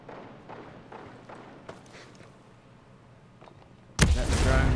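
Gunfire in the tactical shooter Ghost Recon: Breakpoint, in Ghost War multiplayer: after several seconds of faint thuds and light taps, a loud, dense burst of shots erupts and keeps going to the end.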